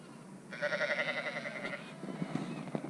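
A single sheep gives one long, wavering bleat close by, followed by quiet rustling and soft thumps.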